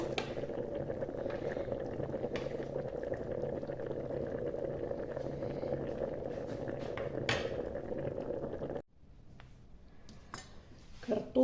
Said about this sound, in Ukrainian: Це все проварюється.